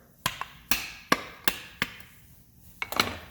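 Sharp, hard knocks from a hammer's butt end strike a 2002 Honda CR-V hubcap at irregular intervals, about eight impacts with brief ringing decays, close and fairly loud.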